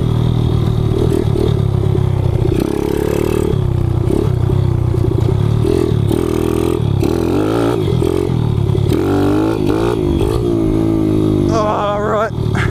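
A Kawasaki KLX 110 pit bike ridden hard over rutted dirt, its suspension bottoming out: a loud, close single-cylinder engine drones and revs up and down throughout, with occasional clunks and rattles.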